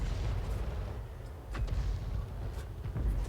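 An artillery shell fired from a leFH18B2 self-propelled gun in World of Tanks: a single deep boom, with a few dull thuds and a low rumble of battlefield ambience around it.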